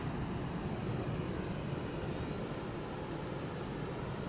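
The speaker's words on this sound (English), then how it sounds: "A321, okay. Nice. Beautiful takeoff." Airbus A321 airliner taking off in Microsoft Flight Simulator 2024, a steady broad jet engine roar that holds constant and loud throughout, with no talk over it.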